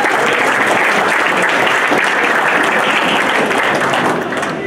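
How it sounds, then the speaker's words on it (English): An indoor audience applauds at the grand opening of a baseball hall of fame, a dense, loud, even roar of clapping that holds steady and fades slightly at the end. "Let's hear it for Rennie LaRue and all his people here."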